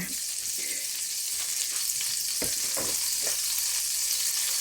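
Continuous loud sizzling of steak frying in margarine in a stainless steel pan, with occasional scraping taps of a utensil.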